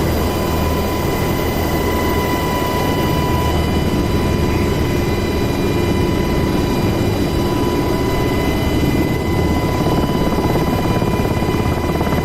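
A helicopter in the DCS World flight simulator on the Persian Gulf map, a loud steady turbine whine and rotor drone held at constant level throughout, with no talking.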